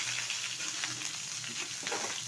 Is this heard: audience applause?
no